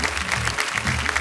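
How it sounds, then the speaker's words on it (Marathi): Audience applause at a Marathi kirtan competition stage event, dense steady clapping filling the short span at even loudness with no speech over it. "जोरदार टाळ्या झाल्या पाहिजे त्यांच्यासाठी."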